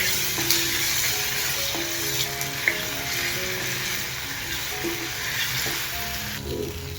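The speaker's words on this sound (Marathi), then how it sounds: "टमॅटोला पण आपण चांगलं परतून घेऊया" Tomatoes and onions sautéing in hot oil for a Maharashtrian dry vegetable dish, a continuous close sizzle with occasional light stirring taps throughout and no talking.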